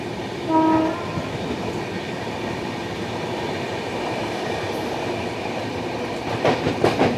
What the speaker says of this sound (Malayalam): ഒരു വാപ്സൺ ഹോളിൽ ട്രെയിൻ കയറി വരുന്നുണ്ട്